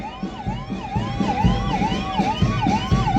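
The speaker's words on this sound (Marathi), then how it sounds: "रुग्णवाहिका वाहन" Ambulance siren at a Maharashtra Day government parade at a stadium in Amravati, a loud wailing siren that rises and falls in rapid regular cycles over a low vehicle rumble.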